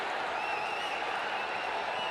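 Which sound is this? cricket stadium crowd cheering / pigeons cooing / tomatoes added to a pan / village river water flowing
cricket stadium crowd cheering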